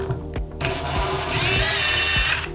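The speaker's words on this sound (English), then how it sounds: "let's start unscrewing all the bolts" Bolts being unscrewed on a Jupiter resin vat, with a steady whirring tool running throughout and a few sharp low knocks near the start and toward the end.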